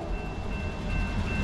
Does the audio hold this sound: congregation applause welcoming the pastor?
no